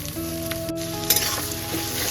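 Chopped onion, green chili and tomato frying together in a pan for egg tarka, a brief steady close sizzle with a light clatter of stirring, over a faint constant hum.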